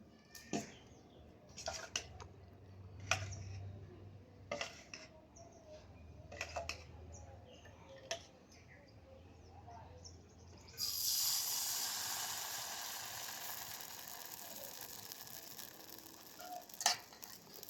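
Chitoi pitha rice batter hits an oiled pan and bursts into a loud, steady sizzle that fades slowly, following several quieter clicks and knocks.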